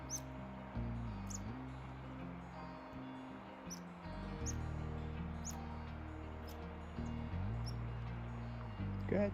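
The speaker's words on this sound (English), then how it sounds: "This little guy has been chirping at me all morning." Short, faint high chirps from a small animal repeat at irregular intervals in a morning forest campsite, heard above a low, steady mechanical hum and drone.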